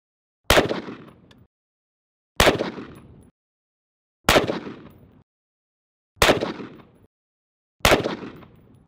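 Five single .223 rifle shots fired into ceramic body armor backed by clay, each a loud sharp crack with a short ringing decay, evenly spaced about two seconds apart, with no voices.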